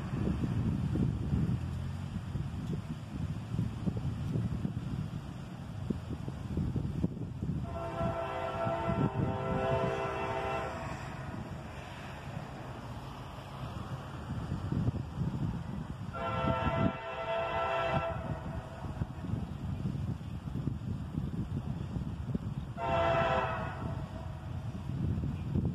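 A southbound CSX freight train rumbles steadily past up close, its horn sounding three loud blasts: a long one, a second long one, then a shorter final call.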